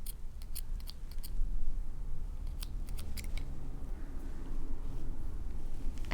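Small scissors snip the thread tail of Victorian hand embroidery in a few quick, light clicks over a soft steady background hum.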